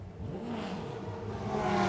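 Race car at the 1996 Le Mans 24 Hours rolling into the pit lane, its engine note swelling and rising in pitch over a brief stretch, with no speech.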